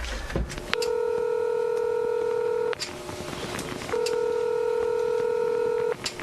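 The DMZ Bat Phone at the North-South Korea border gives two long, steady electronic telephone tones, each lasting about two seconds with a pause between, clear and close over faint room noise.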